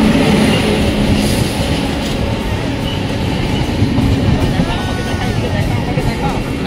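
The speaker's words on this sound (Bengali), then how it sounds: "সো ফাইনালি আমাদের ট্রেন চলে এসেছে" A train pulling into Durgapur railway station at night gives a loud, continuous rumble with rolling clatter and a faint squeal of wheels, while people talk nearby.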